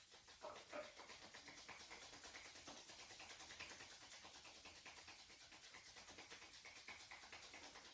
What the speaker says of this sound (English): and rub your palms.